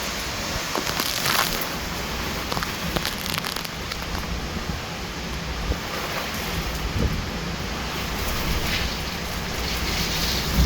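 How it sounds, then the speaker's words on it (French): Rain begins falling during a violent thunderstorm as a gust front arrives, a dense steady hiss of rain and wind buffeting the microphone throughout, with no voices. "Ah, ça y est, il commence à pleuvoir les amis."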